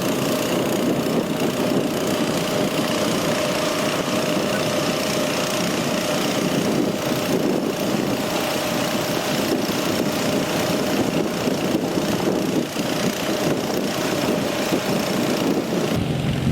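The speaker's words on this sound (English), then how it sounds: "Mark and the harvester head off to the other side of the bog." A cranberry harvester machine drives across a flooded bog, its engine a steady, droning hum that holds at an even level throughout without pause.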